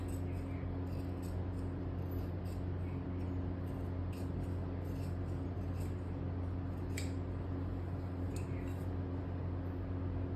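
Scissors snip through fabric while the four front panels of a kameez are cut out, a steady run of soft, close crisp cuts over a low constant hum.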